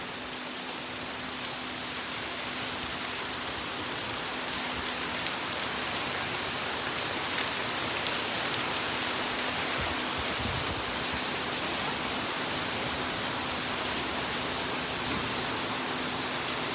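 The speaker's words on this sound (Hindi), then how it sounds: "मुझे लगता है पूरे बिहार में बारिश हो रही है" Steady monsoon rain pours continuously as a dense, even hiss heard from a home balcony in Bihar, moderately soft and unbroken, with no voices.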